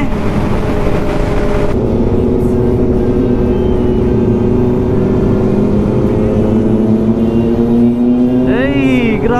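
A Kawasaki ZX-10R motorcycle on an anniversary group ride, a loud, close engine roar that rises and falls steadily, with riders cheering and talking over it.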